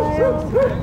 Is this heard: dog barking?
yes